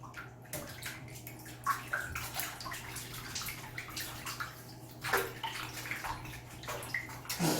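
Hair being washed in water with dissolved albendazole: close, continuous splashing, trickling and sloshing with wet rubbing sounds, without any talk.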